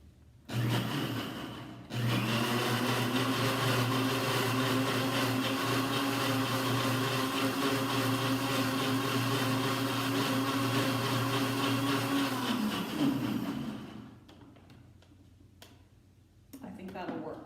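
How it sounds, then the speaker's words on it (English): A blender runs on high for about twelve seconds, chopping pieces of bread into fine crumbs, then winds down and stops. The steady, loud whir comes close up, with a brief start and stop before the main run. "Now I'm going to blend it on high for a minute just to make sure all the little pieces of bread get chopped up"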